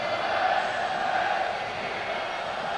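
A near-capacity crowd of about 75,000 at Rome's Olympic Stadium for Roma v Juventus, a dense, continuous roar and chant washing steadily from afar on a sunny afternoon.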